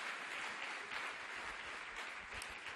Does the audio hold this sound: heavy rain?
no